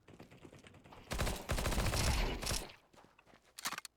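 Gunfire in a first-person shooter video game: a rapid automatic burst rattles loudly for over a second, followed by scattered quieter shots and clicks, heard with no talking.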